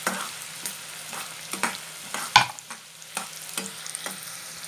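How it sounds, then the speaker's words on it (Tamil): Sliced onions and slit green chillies sauté in hot oil in a pan, a steady sizzle broken by about ten sharp stirring scrapes at a regular pace, close and clear with no talking. "வெங்காயம் நல்லா வதக்க விட்டுடலாம்."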